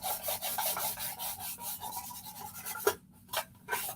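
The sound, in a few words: sanding wood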